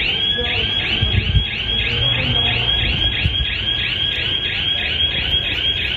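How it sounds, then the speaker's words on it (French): A GeoRide 130-decibel motorcycle anti-theft siren blares a loud, rapid, regular warbling pulse that repeats without a break throughout. "On a aussi la sirène anti-vol de 130 décibels qui elle est beaucoup plus forte."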